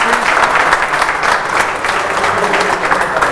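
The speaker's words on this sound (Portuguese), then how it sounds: "Vamos aplaudir o homem." Steady audience applause in a live stand-up comedy battle show, dense clapping from a full room that holds at an even level throughout, with faint voices mixed in.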